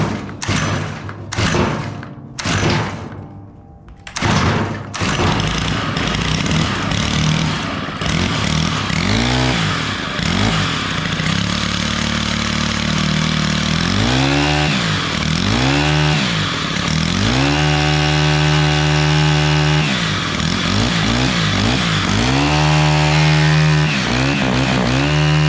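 A Stihl FS91R string trimmer being started by hand, with several sharp pull-cord thumps before its small two-stroke engine catches and runs close and loud, rising and falling through repeated revving surges, without talk.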